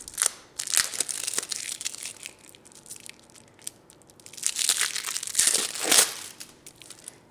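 Plastic wrapping is pulled off a 375-gram package of dates, giving close, bursty crinkling and crackling that rises and falls in two main bouts with quieter gaps between them.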